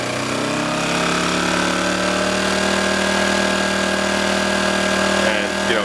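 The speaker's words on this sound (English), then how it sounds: "Now, if you put a heavy load on it, it's gonna rev up again." A Honda 1000W generator's engine runs steady and loud under a heavy load, its droning hum rising slightly in pitch as it revs up.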